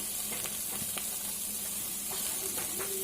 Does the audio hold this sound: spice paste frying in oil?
yes